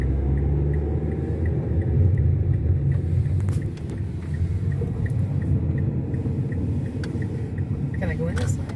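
Car engine and road rumble during a test drive in El Salvador, a steady low drone running throughout with people talking inside the cabin over it.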